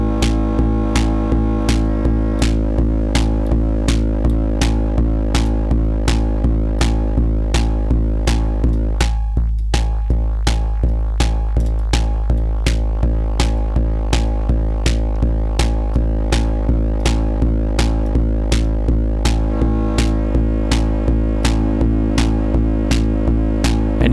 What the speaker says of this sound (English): if I wanted to, we could try a triangle wave.